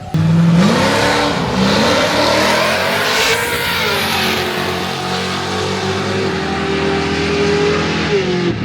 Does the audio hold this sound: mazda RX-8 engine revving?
yes